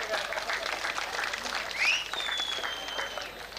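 Spectators clap for the winners at the Naringana Lava Kusha Jodukere kambala buffalo race, soft, distant applause with a couple of whistles under a commentator's talking.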